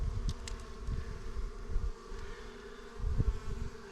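Honeybees buzz steadily around an open hive during a spring inspection, a close, continuous drone with low rumbling swells and a few brief higher whines as bees pass near.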